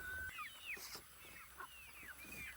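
Free-range chickens cluck and squawk in short overlapping calls, faint and somewhat distant, with a high-pitched hum running underneath.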